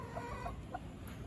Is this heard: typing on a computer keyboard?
no